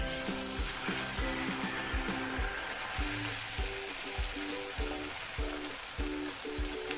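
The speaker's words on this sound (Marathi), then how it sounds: "खरपूस होईपर्यंत आपल्याला हा वडा फ्राय करून घ्यायचा आहे" Sabudana vada, a patted tapioca-pearl patty, deep-fries in hot oil. A continuous crackling sizzle mixes with a rhythmic, repeating low thumping pattern in the background.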